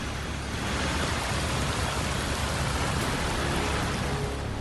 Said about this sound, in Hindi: भारी बारिश के बाद सड़क पर उमड़ा सैलाब।